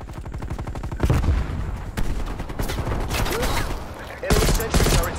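Semi-automatic sniper rifle fire in the video game Call of Duty: Cold War, with loud, dense rapid shots and a heavy low boom, layered with other battle noise and bursts of game audio.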